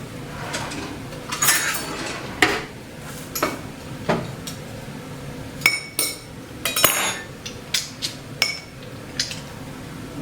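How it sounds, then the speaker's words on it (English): A small garlic mincer crushes thawed garlic cloves in a kitchen, giving a run of sharp metallic clicks and clinks at an uneven pace, close and fairly quiet, with no voices. "I'm using my little garlic mincer."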